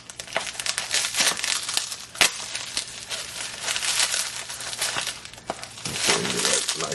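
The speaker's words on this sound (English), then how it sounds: "That bubble wrap's just been a little tough today." Bubble wrap is crinkled and pulled off a new Buck folding knife, giving continuous close, loud crackling and rustling with sharp snaps, and no talk.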